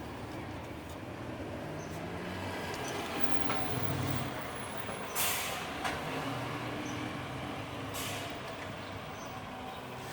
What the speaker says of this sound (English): here's another big bus coming